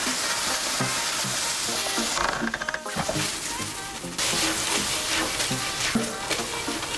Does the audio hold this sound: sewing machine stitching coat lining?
no